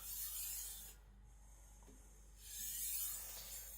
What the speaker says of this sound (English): I'm just gonna create a micro bevel at that.